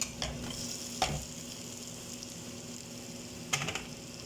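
Chicken stirred in a hot pan with garlic and onions, a steady soft sizzle with a few sharper scraping knocks of a utensil, close and low in level.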